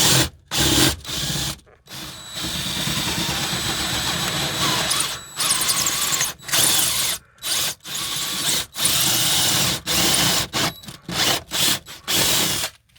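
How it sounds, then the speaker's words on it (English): A power drill with a 16mm bit whirs loudly and close in repeated long bursts, separated by short pauses as it bores through into a motorhome battery box. "16mm drill bit."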